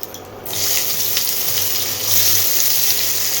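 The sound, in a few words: dried chillies and mustard seeds sizzling in mustard oil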